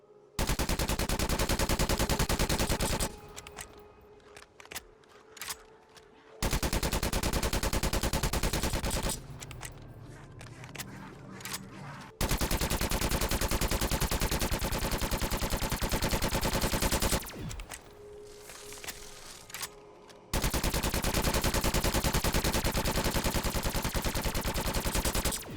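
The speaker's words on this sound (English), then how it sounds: "I like to play the sounds of the weapons" UGR submachine gun from Call of Duty Cold War Zombies firing in long sustained full-auto bursts, loud and close, with short gaps of quieter ambient game noise between each burst.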